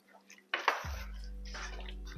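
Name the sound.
water poured into a pot of curry goat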